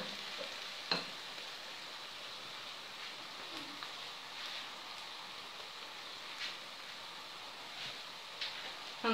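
Chopped onion softens in a pan for a green bean and sausage stew, producing a faint, steady frying hiss with occasional soft pops and spatters, heard quietly and without talk.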